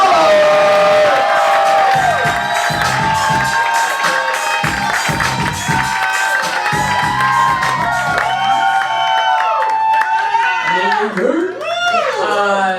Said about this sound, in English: So clap it up for Lia Richardson